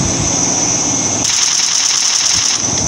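Rapid, continuous automatic gunfire from the shooting game Free Fire rattles loudly and steadily throughout, layered over a constant droning engine hum.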